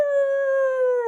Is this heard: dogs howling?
yes